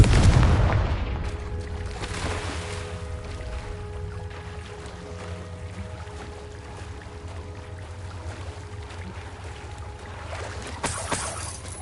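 In Hogwarts Legacy, a Confringo blasting spell sets off a deep boom at the start that decays into a low rumbling game ambience, with another sharp hit near the end and no speech.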